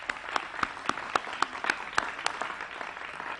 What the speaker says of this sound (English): That is worth applause, everybody.